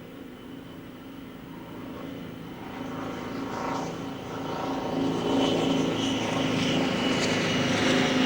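A Class 55 Deltic diesel locomotive, D9000, hauling the Centenary Pullman: a heavy engine drone and rumble that builds steadily louder as the train approaches, with no voices.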